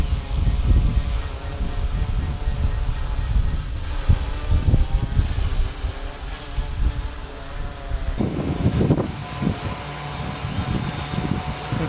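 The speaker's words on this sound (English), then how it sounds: "A little windy out here too." Strong wind of around 19 mph buffets the microphone in continuous low rumbling gusts, with a faint high whine, likely from a DJI Inspire 2 drone, briefly audible near the end.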